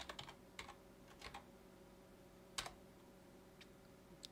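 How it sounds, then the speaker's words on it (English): Scattered keystrokes on a computer keyboard while a location is entered into a search box, with a few sharp separate clicks over a quiet, steady background hum. "So let's type that in."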